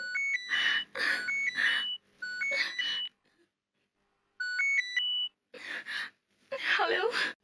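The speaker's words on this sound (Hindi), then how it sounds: "किसी का फोन आ रहा है।" A phone ringtone plays in repeated melodic bursts with short pauses between, close and clear, and a voice speaks briefly near the end.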